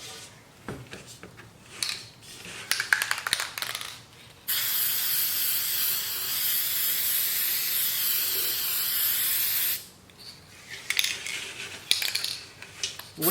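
Metallic gold spray paint hissing from an aerosol can onto a galvanized metal container: one long, steady, loud spray burst of about five seconds, with clattering and handling noises before and after.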